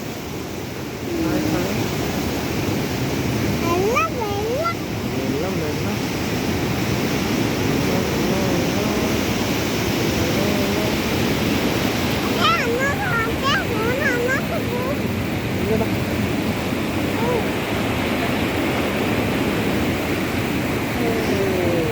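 Water rushing over the Karimbukayam check dam, a loud continuous roar of flowing water close by, with people talking over it.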